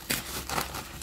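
Cardboard packaging wrapped in tape, from a portable Campfire gas stove unboxing, is handled close up with two short crinkling, rustling bursts.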